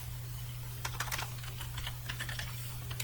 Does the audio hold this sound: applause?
no